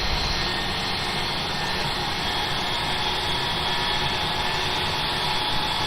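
Airbus A320 jet engine at Glasgow Airport in the UK, a loud continuous roar with a high whine that holds steady throughout.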